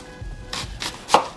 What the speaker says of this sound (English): So we're gonna start by chopping up some onions for our ground beef.